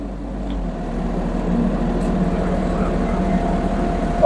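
A GroundHog BH40D track excavator's diesel engine running at a steady low drone, close by and fairly loud, holding an even rumble as it is throttled down.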